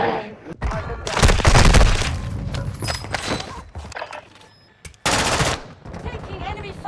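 Loud bursts of automatic gunfire and single shots in a Call of Duty match, coming in uneven clusters with short pauses and a sharp renewed volley near the end, plus game effects.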